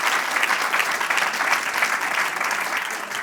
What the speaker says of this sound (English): can we just have a round of applause for all of our speakers today?